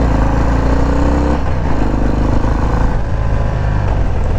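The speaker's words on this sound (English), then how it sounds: "I'm gonna drop it and I'm gonna just roll on the throttle." A 2020 Harley-Davidson FXDR rolls on the throttle from about 20 mph, its V-twin engine a loud, close, continuous roar that builds through the pull.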